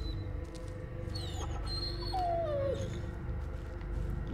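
A puppy whimpers and whines in the horror video game Blair Witch, with a rising then falling whine standing out over a dark, droning ambient backdrop.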